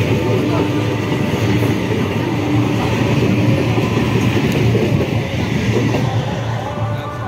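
Sealdah–Katwa local train pulling out of Balagarh station on the Howrah–Katwa line, a steady loud rumble and rolling wagon noise held close throughout, with faint voices beneath.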